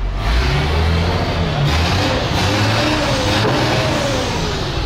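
A bus engine on a race track revs loudly and close, with a sustained rough roar that rises and falls in pitch over several seconds.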